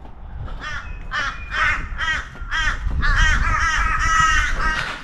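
Several crows caw loudly and repeatedly nearby in Australia, harsh calls overlapping in quick succession over a low background rumble.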